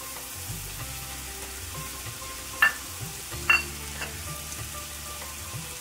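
Chopped capsicum sautéing in a pan for masala pav, a steady close sizzle with a couple of sharp stirring clinks from the spatula.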